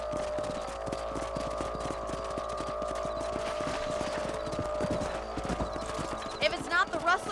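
Steady clip-clop of horse hooves at a riding pace in the Red Dead Redemption video game, continuous and close, with occasional whinnies and a voice speaking briefly near the end.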